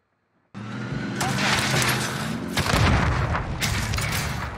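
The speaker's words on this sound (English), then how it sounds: "We're getting shot from freaking everywhere" Dense, booming gunfire and explosions rumble continuously in the Warzone video game, with layered shots coming from several directions, loud and close.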